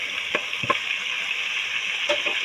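Chopped tomatoes drop into a hot frying pan of kalonji aloo, setting off a steady close hiss of sizzling oil broken by a few soft splats as pieces land.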